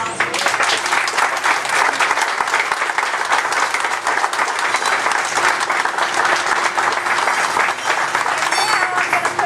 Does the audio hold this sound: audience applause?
yes